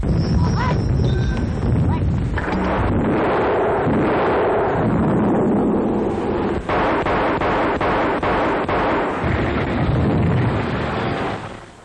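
Heavy artillery guns firing during an army infantry assault exercise, a loud continuous barrage of booms and blasts with wind buffeting the microphone, while a voice calls out over the din.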